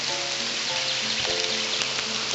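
Steady rain falls outdoors on a creek-side walk, a constant, close hiss of drops on surfaces, with faint tonal hums beneath and no talk.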